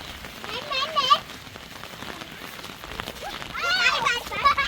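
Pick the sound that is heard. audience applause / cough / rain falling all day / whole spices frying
rain falling all day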